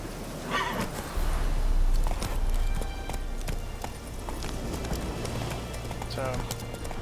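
Roach, the horse in the video game Witcher 3, gallops with rhythmic hoof clip-clops across a game soundscape, steady and moderately loud, while a player's voice talks over it.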